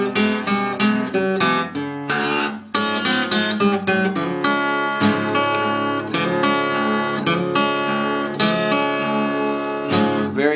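Bright electric guitar plays a busy introduction run on the blues scale, quick notes and bends, loud and up close, with no voices.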